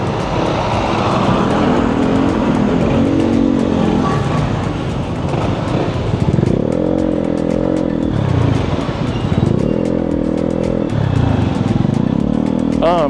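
A motorcycle engine drones loudly up close in town traffic, its exhaust rising in repeated revs amid road noise, heard from inside a helmet, with a voice speaking over it at times.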